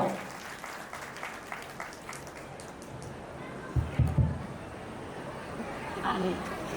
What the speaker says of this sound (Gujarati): જોરદાર તાળીઓના નાદથી બનાવો